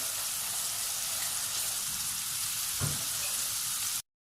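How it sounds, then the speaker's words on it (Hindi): Chicken rashmi seekh kebabs fry in hot oil in a pan, producing a steady, loud, dense sizzle with one brief low bump near the end before it cuts off. "ये देखें माशाल्लाह से कबाब हमारे फ्राई हो रहे हैं"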